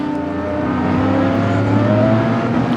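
A pack of GT4 race cars at Bushy Park circuit in Barbados, engines roaring loudly and steadily as they run close together, with sustained high revving and a smooth whirring drone.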